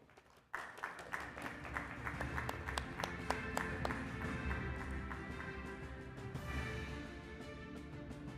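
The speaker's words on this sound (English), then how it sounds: "if we can please keep our applause going and make some noise for Professor Dr. Flomi Menon" Audience applause fills a conference award ceremony hall, a steady sustained wash of clapping that starts abruptly and continues at an even level throughout, with a few sharper individual claps standing out near the start.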